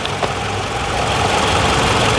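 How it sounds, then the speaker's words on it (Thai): A 2009 Toyota Camry 2.0 G engine idles steadily with an even, low rumble throughout, close by and with no voices. "นี่คือเสียงเครื่องยนต์เดินเรียบๆ นิ่งๆ"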